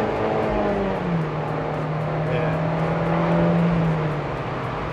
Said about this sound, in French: le niveau de son, c'est un moteur turbo